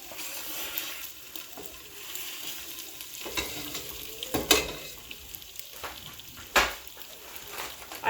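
Chopped chicken hits cooked onions in a hot pot, giving a steady close sizzle and frying hiss broken by stirring scrapes and a few sharp clinks of a utensil against the pot.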